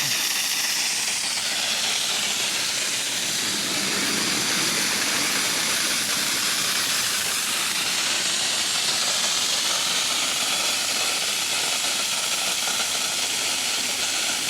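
Compressed air blasts out through an in-ground lawn sprinkler zone as a loud, steady, rushing hiss that roars on for many seconds without a break, close and with no talking.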